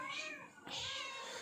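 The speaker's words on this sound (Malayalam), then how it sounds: "ആ പൂച്ച കിടന്ന് കരഞ്ഞതേ" A cat meows twice in quick succession, a short drawn-out cry followed by a louder one, close by and clear against a quiet home background.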